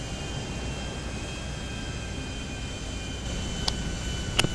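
A steady, droning airplane engine in flight inside GTA V, a continuous broad roar holding even throughout, with a couple of faint clicks near the end and no talking.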